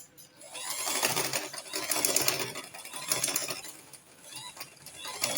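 A sewing machine back stitching a lace skirt runs in close, rapid mechanical bursts, its needle rattling in waves that rise and ease over several seconds, with no voices.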